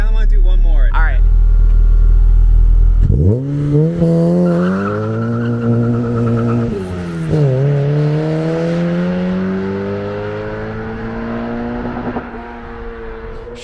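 A K24-swapped Mazda Miata MX-5 launches hard, its tires squealing as the engine climbs through rising revs and gear changes, loud and close, while people talk over it.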